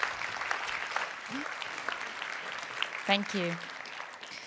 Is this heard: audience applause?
yes